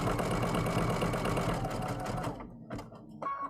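A sewing machine zigzag-stitches rope into a rope bowl, a fast, continuous mechanical whirr that runs steadily and then stops, followed by a few light taps and clicks, close up, with no talking.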